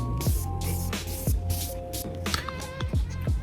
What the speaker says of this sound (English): We're gonna be using the Make It Last setting spray once again.